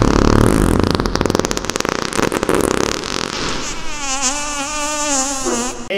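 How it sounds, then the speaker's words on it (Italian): A long, loud, sputtering fart up close, first a buzzing rapid flutter and then a wavering, whining drawn-out tail lasting several seconds. "Io ti peto in faccia a te."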